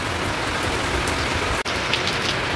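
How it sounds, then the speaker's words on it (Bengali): Heavy monsoon rain pouring steadily onto surfaces near a shed, a dense unbroken hiss with scattered drips, close and constant. "সমানে একটানা বৃষ্টি হয়েই যাচ্ছে"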